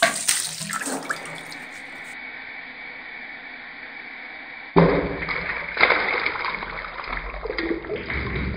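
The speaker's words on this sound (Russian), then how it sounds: "И осталось только включить кран, чтобы это все делалось." Water from a tap runs into a balloon as a steady rushing stream, then turns louder and more splashy partway through, with no voices.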